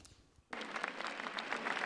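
Crowd of faithful applauds along a religious procession route, a steady wash of dense clapping that begins abruptly after a quiet moment and continues at even, moderate distance.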